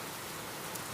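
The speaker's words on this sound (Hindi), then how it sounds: "जोरों से बारिश होने लगी" Heavy cartoon rain pours down in a steady, dense hiss of drops hitting the ground. It is continuous and even, with no voices over it.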